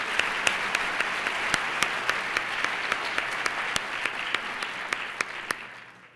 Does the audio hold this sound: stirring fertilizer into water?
no